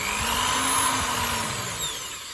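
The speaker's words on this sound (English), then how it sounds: "So I'm going to drill a hole" A power drill bores a hole in a metal jar lid for a liquid-culture and grain-spawn jar, its steady motor whine running continuously and fairly loud for a couple of seconds, with no talking.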